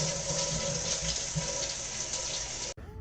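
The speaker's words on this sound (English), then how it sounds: "Now flush." A toilet flushes with a steady, loud rush of water that runs for a few seconds and then cuts off abruptly, heard up close indoors.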